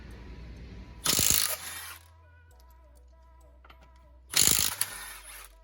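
A ratchet working the suspension bolts loose on a 2011 Hyundai Genesis Coupe 2.0T: two loud bursts of fast ratcheting about three seconds apart, with quieter workshop clinks and a low hum between them.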